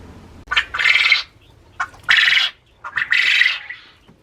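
A rooster calling his hens: three loud, harsh squawking calls in bursts, each about half a second, close by with short pauses between.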